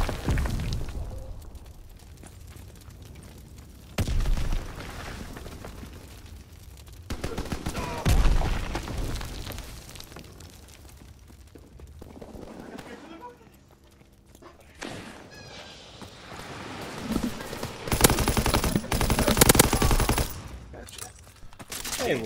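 Bursts of gunfire in the Call of Duty video game, including shotgun blasts, rattle in uneven volleys with explosions, loud and busy, while players talk over the action.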